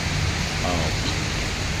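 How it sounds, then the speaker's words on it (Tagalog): Heavy rain on a rainy day pours down as a steady, dense wash of broadband noise, close and continuous throughout, with a faint voice briefly audible underneath. "Yung narinig niyo mga kaibigan, sounds yan ng ulan."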